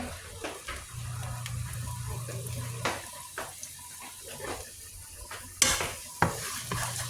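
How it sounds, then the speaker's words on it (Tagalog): Garlic hitting a hot pan for pinakbet, with a faint, low sizzle, scattered clinks and stirring scrapes of a utensil against the pan, several sharp knocks near the end. "Lagyan na natin ang ating bawang."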